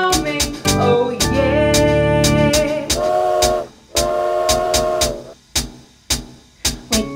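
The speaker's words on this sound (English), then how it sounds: "Train is a coming, train is a coming" A circus train with a whistle sounds close and loud, sustained tonal toots broken by sharp rhythmic clacks and hits, in a musical, song-like pattern.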